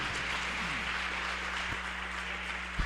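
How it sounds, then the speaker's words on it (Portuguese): Congregation clapping together during a Portuguese-language church vigil service, a steady dense wash of applause with a low hum underneath and a brief thump near the end. "Vamos dar uma salva de palmas para Jesus."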